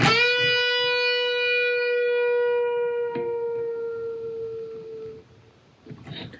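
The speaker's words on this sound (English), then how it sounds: "this A, I'm going to bend until it sounds like this B," Electric guitar note from a rock solo, an A bent up to B and held as one long ringing tone that slowly fades, followed by a faint soft pluck at the end.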